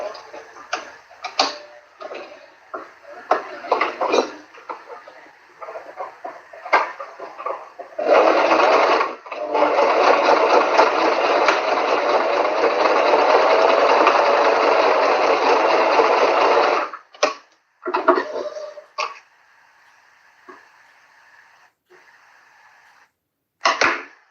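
A sewing machine stitching fabric along the edge of a foam layer, running in short bursts of rapid ticking, then a long steady loud whirring run, then a few more short bursts, close up.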